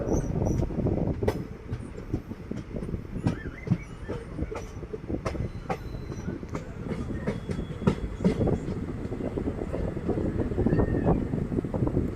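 Amritsar–Kochuveli Weekly Superfast Express rolling out of Cherthala station in Alappuzha toward Vayalar, a steady loud rumble of wheels and carriages with faint clickety-clack, continuous and close throughout, no voices.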